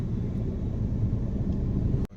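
A car engine rumbles steadily and close by during a driving lesson as the clutch is let out, a low continuous drone that drops out briefly near the end.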